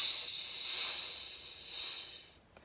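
Voices imitate blowing wind with a drawn-out shh hiss that rises and falls twice, near and gentle, ending in brief silence.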